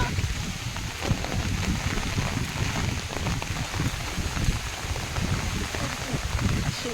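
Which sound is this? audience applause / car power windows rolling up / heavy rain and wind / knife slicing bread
heavy rain and wind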